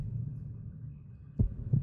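Heartbeat sound effect from a Bleach anime episode, with two low, soft thumps near the end following a quiet, steady hum.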